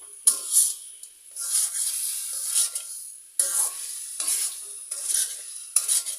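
Masala sautés in a pan for a taro and egg curry, a bright hiss with bursts of stirring and scraping that come and go in short waves, close and moderately loud, no voices.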